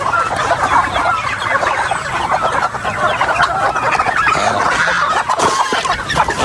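Many chickens and geese clucking continuously, a dense, busy flock sound with overlapping calls, fairly loud and close, with constant farmyard background noise.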